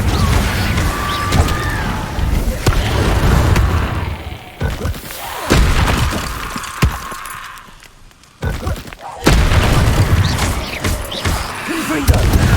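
Repeated Confringo fire-spell blasts in the wizarding game Hogwarts Legacy, loud and close, mixed with shattering, crunching impacts and thuds. A brief lull comes before the crashes resume.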